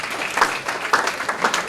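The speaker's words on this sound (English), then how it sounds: "a round of applause please as he's coming" Brief audience applause at an aviation careers conference as a speaker approaches the microphone, a dense clatter of many hands with a few louder individual claps standing out.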